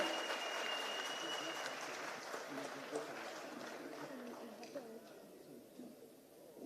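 After a special address at an event honoring a hospital founder, a hall audience gives the speaker a round of applause. The clapping is faint and distant, spread steadily and slowly fading, with voices mixed in.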